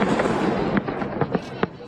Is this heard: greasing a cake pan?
no